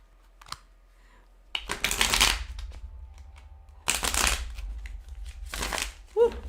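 Thick-cardstock tarot cards shuffled close up in a few bursts of riffling and flapping, separated by brief pauses, with a faint voice at the edges.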